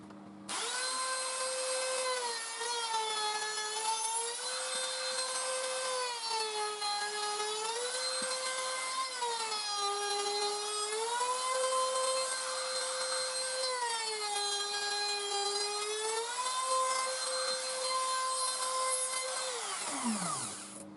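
A handheld power tool chamfers the edge of a scrap wood piece, a steady high-pitched whir with rising and falling pitch as the load changes, running continuously for about twenty seconds before spinning down.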